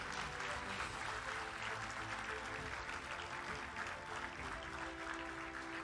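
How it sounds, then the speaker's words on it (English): Dense applause from an audience at a graduation convocation ceremony, many hands clapping steadily and continuously without a break at a moderate distance. "Let's put our hands together louder for Agalatunga Arachige Senadi Harinda Pereira."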